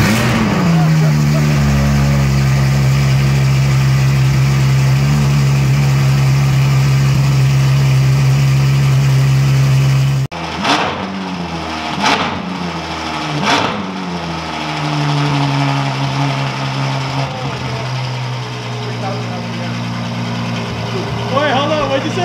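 A Ferrari F12 Berlinetta idles steadily after startup, then blips its engine in a few quick revs before settling back to a lower idle, heard close up and loud inside a garage with people talking nearby.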